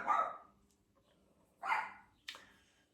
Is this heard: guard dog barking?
yes